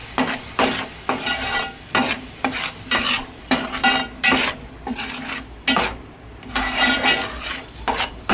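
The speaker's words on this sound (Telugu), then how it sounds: "సిమ్లో పెట్టుకొని 2 నిమిషాలు ఫ్రై చేసుకోవాలండి." Masala frying in a pan, with a metal spoon scraping and clattering against the pan in a steady stirring rhythm over a constant sizzle, close and fairly loud with brief pauses between strokes.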